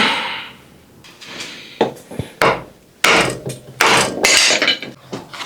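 Mountain bike cranks being installed with hand tools, a series of separate close metallic clanks, knocks and ratcheting clicks in irregular bursts, with quiet gaps between.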